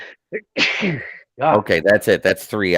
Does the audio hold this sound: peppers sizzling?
no